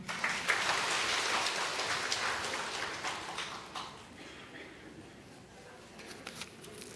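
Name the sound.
audience applause in church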